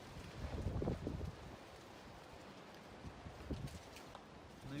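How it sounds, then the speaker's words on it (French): Strong storm wind gusts buffet the microphone outdoors, a rough roaring rush that swells loudly in the first second and again near the end, with a steady windy bed in between. "ça souffle violemment hein, en tempête là"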